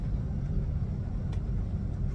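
An airliner's engines hum with a steady low rumble inside the cabin as the plane begins taxiing, a constant muffled drone with no talking.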